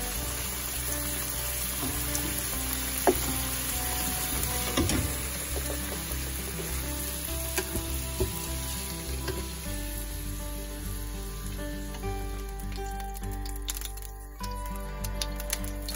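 Pork slices sizzle and fry steadily in a hot pan, a dense continuous crackle with occasional sharper pops and a brief stir partway through, fairly close and with no talking.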